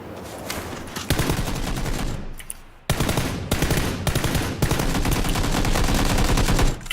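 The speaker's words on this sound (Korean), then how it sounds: "지금 쏜다?" Automatic rifle fire from a PUBG match on the desert map, loud rapid bursts of shots packed close together, with a brief pause before the firing resumes and keeps going steadily.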